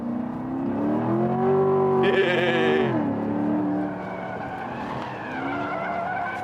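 A 2015 Corvette Stingray's V8 engine roars steadily while driving, with a brief higher-pitched tire squeal in the middle and the engine note rising and falling close by.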